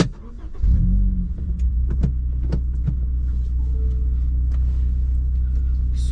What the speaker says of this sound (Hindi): कार स्टार्ट कर लेते हैं।